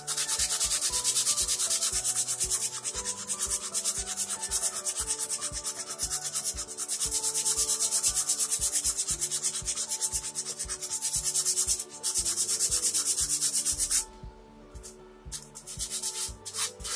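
Steady, continuous rubbing of sandpaper on myrtle burl wood veneer, loud and close, with rhythmic back-and-forth strokes that ease off briefly near the end.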